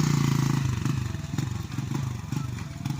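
A motorized tricycle's small engine idles and putters with a steady, rhythmic chug, close by and fairly loud, with faint voices underneath, as it boards a boat.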